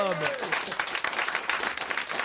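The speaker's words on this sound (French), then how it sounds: "Ce qu'il y a de plus naturel, c'est les applaudissements après." A studio audience at a radio comedy show bursts into dense, sustained applause, many hands clapping loudly and close, with a voice fading out at the very start.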